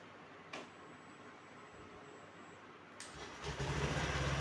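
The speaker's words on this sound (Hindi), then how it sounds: "हमारी एक्टिवा स्टार्ट हो गई है" A Honda Activa scooter engine turns over and catches after a short click, settling into a steady idle that grows louder and rougher as it is slightly revved near the end.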